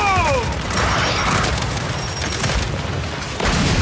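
A frag grenade blast in the shooter Gears 5 during a Horde match, a loud close boom with a rumbling tail that spreads into the surrounding combat noise.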